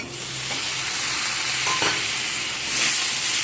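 Chopped tomato stir-frying in hot oil with ginger, garlic and onion for a jackfruit curry, a loud steady sizzle with occasional scrapes of a spatula stirring the pan, no talking.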